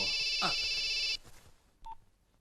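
A telephone gives a loud electronic ring that cuts off abruptly, followed by a quiet pause and a short faint beep.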